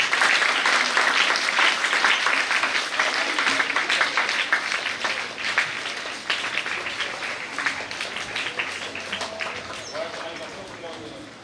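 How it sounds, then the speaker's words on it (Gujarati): Audience at an award ceremony applauds, dense sustained clapping that is loud at first and gradually thins and fades. "આપણે સૌ એમને તાળીઓના નાદથી વધાવીએ."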